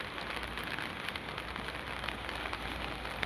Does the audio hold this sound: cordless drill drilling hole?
no